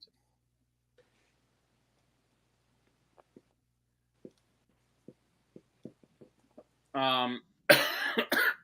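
A string of short, sharp coughs spaced out over several seconds, growing louder, followed by a brief burst of breathy voice and a harsher cough at the end.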